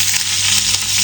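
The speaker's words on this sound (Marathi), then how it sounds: "आता आपण फोडणी देऊ" Spices tempering in hot oil for dal, with cumin, mustard seeds, asafoetida, chilli and curry leaves: a loud, steady, close-up sizzle and crackle of frying that fills the whole moment without pause.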